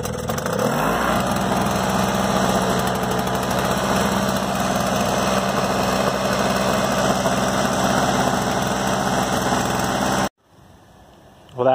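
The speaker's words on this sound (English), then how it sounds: "it did start on the first pull and I didn't even remember to choke it" A small gasoline engine catches on the first pull and settles into a steady, buzzing idle that runs loud and even for about ten seconds before cutting off abruptly.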